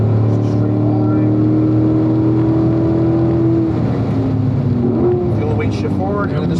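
A car engine accelerates steadily in fourth gear along a track straight during an instructor's lap, its drone rising gradually and loud throughout, with in-car talk over it.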